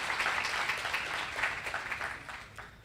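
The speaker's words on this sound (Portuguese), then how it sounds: "Essas palmas querem dizer sejam bem-vindos." A church congregation claps in welcome for newcomers, a dense, even wash of many hands filling the room, steady before easing slightly toward the end.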